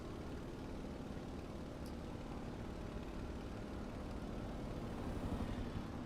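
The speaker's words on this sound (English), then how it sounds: "I heard it, saw the shadow, but never saw the actual plane." Faint, steady engine drone of an aircraft passing by in Microsoft Flight Simulator 2024, a continuous low hum that swells slightly toward the end with no voices present.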